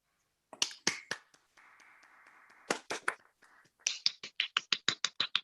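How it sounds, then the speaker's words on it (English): Award ceremony participants give a virtual round of applause, scattered separate claps and snaps heard close up, a stretch of soft static in between, then a quick rhythmic run of sharp claps. "we may give you all a virtual round of applause"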